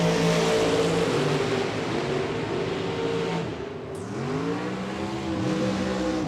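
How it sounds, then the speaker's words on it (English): A drag racing car stages at the line at the Spring Fling Million, its engine revving loudly with a rich, buzzing tone that dips briefly, then climbs and wavers in pitch. "Mikey rolls in, stages up the car, says, we're good"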